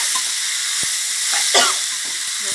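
Chicken with roasted bamboo shoots stir-fried in a pan, a broad steady hiss of sizzling oil with a few soft utensil knocks and one brief louder scrape, close by and free of speech.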